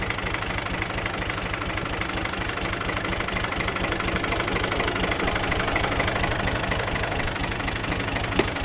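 A tractor engine idles close by with a steady, throbbing low rumble and a regular knocking pulse, unchanging from start to end.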